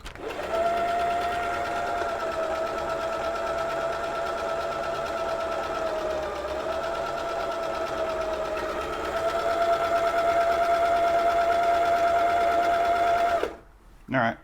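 An old Husqvarna sewing machine stitches continuously with a steady motor whir and rhythmic needle chatter, running close and even for about thirteen seconds before stopping abruptly, followed by a brief clunk.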